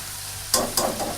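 Masala for aloo gobi is stirred and fried in a pan, giving two quick, close scraping stirs over a low background sizzle, with no voices.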